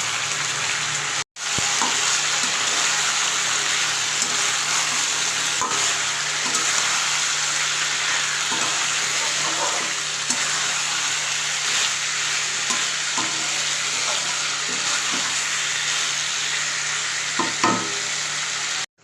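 Green peas sautéing in oil in a home kitchen, a loud, dense, continuous sizzle holding steady close up for the whole stretch, interrupted by one brief dropout, with faint scraping and no talking.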